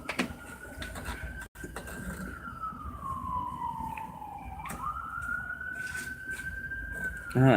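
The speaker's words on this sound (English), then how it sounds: "I hear siren." An emergency vehicle siren wails outside, one long tone that slowly falls then climbs again, moderately distant over low background rumble, with no talking.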